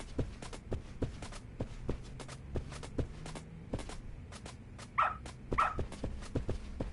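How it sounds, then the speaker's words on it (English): A dog barks in the video game Lost Judgment, a few sharp, fairly close barks mixed with regular thudding steps and other game sounds, with no speech. "Good dog. Very good dog."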